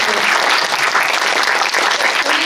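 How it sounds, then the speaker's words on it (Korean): Audience applause at a film screening talk, a dense, even wash of clapping that stays loud and steady throughout with no pauses. "박수 부탁드립니다"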